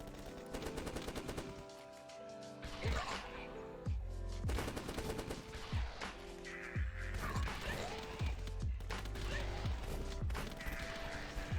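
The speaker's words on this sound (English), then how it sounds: "I found an M249 machine gun and an RPG. Don't worry, because I literally tried them out as soon as I could get them into my hands." Rapid M249 machine-gun fire and RPG blasts in The Last Stand flash game: quiet, continuous rattling bursts with repeated low booming impacts spaced through the stretch.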